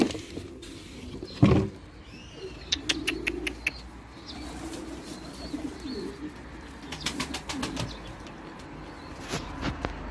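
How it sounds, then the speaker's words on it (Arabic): Young pigeons take flight from a loft with bursts of flapping wings and a few sharp wing claps, fairly close, over faint outdoor background noise. "ونطير فروخ انه نشوف ايش قد راح يطير"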